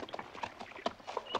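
Hooves of a small black horse clip-clop in a quick, close, uneven rhythm across a brief moment, with no voices over them.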